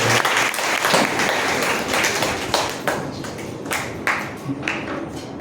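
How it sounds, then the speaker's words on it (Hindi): An audience claps together at an Indian discussion gathering, brisk applause that thins into scattered individual claps toward the end. "एक बार आप उनके लिए भी एक बार जोरदार तालियां बजाएं।"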